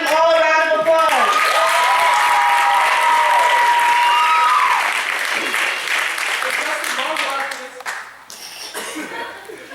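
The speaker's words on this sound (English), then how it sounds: "Let's give them all a round of applause." Audience applause and cheering for contestants at a popularity-vote contest, loud and dense, with whoops and sung or shouted tones riding over the clapping before it tapers toward the end.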